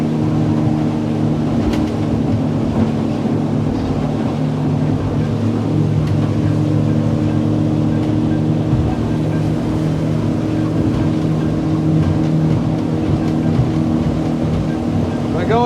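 A 2020 North River 18.6 Seahawk motorboat with an outboard bracket runs at speed over ocean swells, a steady loud engine drone mixed with rushing water and wind, continuous for the whole stretch.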